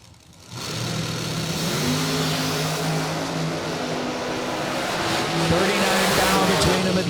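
Drag race cars launching side by side at a K&N Spring Fling event, Richmond, Virginia entry against Silver Lake, Indiana entry, a loud sustained engine roar swelling after a quiet start, with an announcer talking over it.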